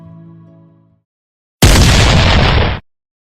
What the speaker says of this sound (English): El Fortín warned the castle by means of the detonation of the cannon